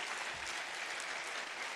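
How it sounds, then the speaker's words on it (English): A church congregation claps steadily at a conference gathering, a dense, even wash of hand claps filling the room for a short burst with no voices over it. "Let's clap for Jesus."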